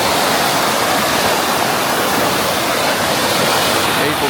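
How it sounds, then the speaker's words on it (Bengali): Mountain water from Sheshnag rushing at Chandanwari in Kashmir, a loud, steady roar of flowing stream with no breaks. "এই অমরনাথ থেকে শীষনাগ পর্বত থেকে যে জল আসছে"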